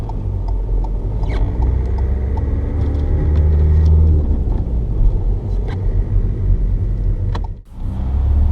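A manual car moves off as the clutch is released with gas, giving a steady, close engine rumble with a low drone that swells slightly midway, then briefly drops out near the end. No one speaks.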